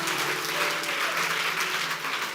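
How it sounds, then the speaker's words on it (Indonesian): A church congregation applauds warmly in praise of God, a dense, steady wash of many hands clapping close by with no voices over it. "Tepuk tangan dulu yang meriah buat Tuhan kita."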